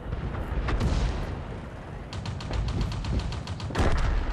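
In the video game World of Tanks, tank cannons fire as loud, close booms, several shots spread across the moment with rapid clicking pulses between them and no talking.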